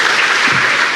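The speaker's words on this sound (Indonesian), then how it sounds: "Tepuk tangan sekali lagi dong." Brief burst of loud, close audience applause at a stand-up comedy performance, dense clapping throughout.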